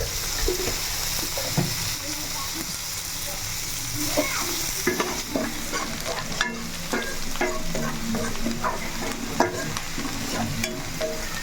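Onions frying in a pan with a little dal while cooking gongura with raw prawns, a constant bright sizzle with scattered clicks and scrapes of stirring, close and loud, with faint voice in the background.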